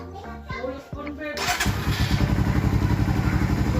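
A flood-submerged Suzuki Raider 150 Fi motorcycle engine cranks and catches, then settles into a steady, close idle with a rapid, even putter.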